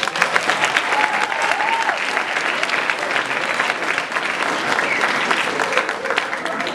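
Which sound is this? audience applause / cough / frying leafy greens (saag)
audience applause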